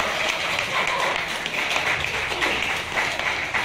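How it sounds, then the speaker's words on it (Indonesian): An audience at a business presentation in East Jakarta claps for Bu Indah, giving a steady, fairly faint patter of applause for a few seconds. "tepuk tangan buat Bu Indah"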